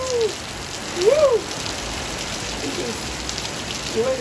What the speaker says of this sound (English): Can you hear the sound of the rain on the roof?